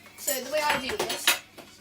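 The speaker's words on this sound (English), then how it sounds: "I take 2 spoons, scoop butter on one." Two metal spoons clink and scrape against each other and a dish in quick, close handling sounds while scooping butter, with a faint voice in the background.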